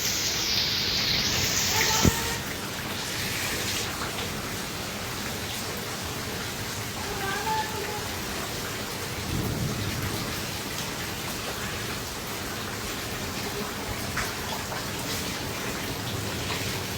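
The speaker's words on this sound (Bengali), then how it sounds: "যেহেতু বৃষ্টি পড়তেছে, নাহলে আমি কাছ থেকে দেখানোর চেষ্টা করতাম।" Heavy hailstorm rain in Thakurgaon, a steady dense patter of rain and falling hail on surfaces with a single sharper knock near the start; no clear thunder stands out, and no voices are heard.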